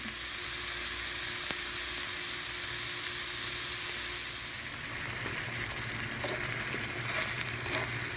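Chorizo and eggs sizzle in coconut oil in a pan with a steady close hiss and faint spits, and the tone shifts midway as the food is stirred.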